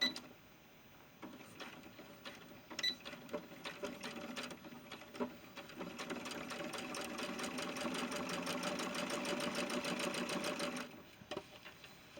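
A sewing machine stitches the side seam of a lined doll vest for a 70 cm ball-jointed doll, running in a steady close whir through most of the stretch with brief pauses and handling noises at the start.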